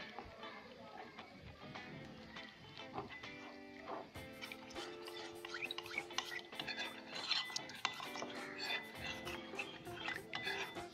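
A spoon stirs custard powder into cold milk in a bowl, a busy run of clinks and scraping swirls that grows livelier as it goes, with faint kitchen ringing beneath.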